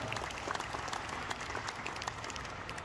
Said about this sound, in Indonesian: tepuk tangan untuk Mas Eko